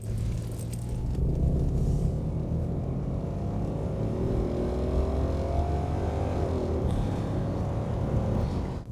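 A BMW E23 735i drives along with a steady, loud engine rumble and road noise throughout, the note rising slightly as it pulls through the gears, with no talking.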